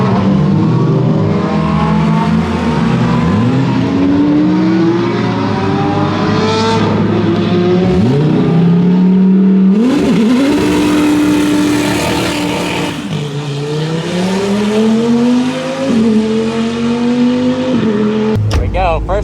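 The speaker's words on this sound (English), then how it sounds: "Some supercars rolling up to go out on the track" Supercars including a LaFerrari Aperta and a KTM X-Bow heading out onto a race track, engines revving and rising in pitch through several gear changes, near and loud, with talk over them.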